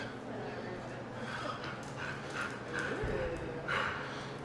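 Dogs in a car-building workshop bark faintly in a few short, distant yips beneath steady room noise and a person speaking.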